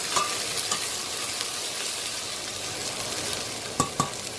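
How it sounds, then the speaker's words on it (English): Sliced okra sautés in a frying pan with a steady, fairly quiet sizzle, then two sharp knocks of a spatula against the pan near the end. "And just saute it till it's crispy and brown for about"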